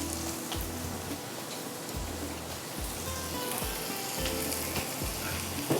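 Kebabs fry in a pan with a dense, continuous sizzle and crackle, broken by faint low thumps as they move in the oil, without any talking.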